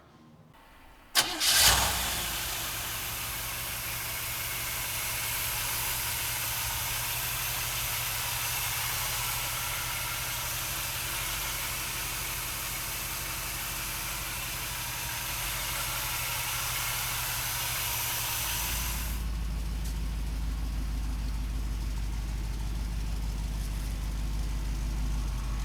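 A 1957 Chevrolet Bel Air engine cranks and fires with a sharp start, then settles into a steady, loud idle that holds with a broad hissing roar and deepens toward the end.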